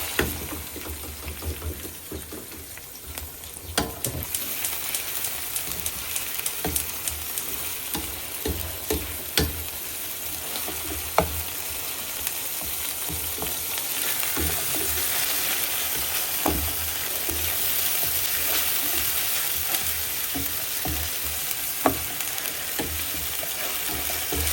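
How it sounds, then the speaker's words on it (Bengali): Garlic paste frying in a pan while being stirred, a constant close sizzle under scattered scraping and tapping of the spoon against the pan. "এখন এটাকে নেড়ে নেব, একটু ভাজা ভাজা করে নিতে হবে।"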